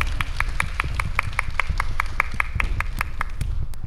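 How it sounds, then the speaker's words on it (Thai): A live audience claps for the contestants on a Thai talent show, brisk and steady hand claps in a fast, even rhythm, close and fairly loud, with no talking over them. "ขอเสียงปรบมือให้กับตัวเองค่ะ"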